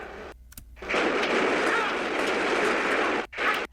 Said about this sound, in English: See how they all shooting him, but they couldn't take him down.